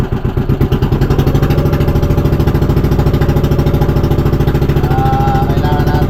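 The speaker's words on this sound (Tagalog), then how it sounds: "sobrang ingay ng makina" A loud engine chugs steadily at close range, its rapid, even pulsing filling the clip from start to finish without any talk.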